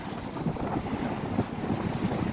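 The Kaveri river at Sattegala in Chamarajanagar runs fast and swirling, giving a steady, loud, broadband roar of rushing water, roughened by wind buffeting the microphone, with no voices.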